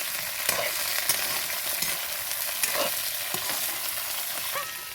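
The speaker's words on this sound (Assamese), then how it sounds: "এয়া মই অকণমান লৰাই দিছোঁ।" Food frying in a pan with steady sizzling and intermittent scraping stirs of a utensil, close and fairly loud, with no talking.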